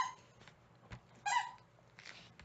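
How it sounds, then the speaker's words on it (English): Dog squeaky toy giving a few faint, short squeaks at home, one brighter squeal in the middle among quieter chirps, close but soft with no talking. "All the squeaky toys."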